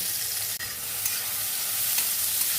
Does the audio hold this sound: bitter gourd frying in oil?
yes